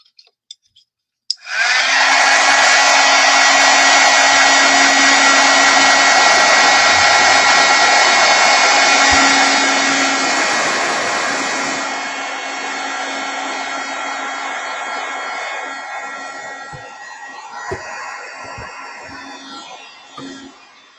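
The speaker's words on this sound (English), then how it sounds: "Or you can quickly heat emboss it again, which I think I'll do this time." A heat embossing tool blows hot air over a stamped snowflake, kicking in with a sharp start into a loud, steady whirring blast that holds for about ten seconds, then eases and tapers off, ending with a few small clicks and taps.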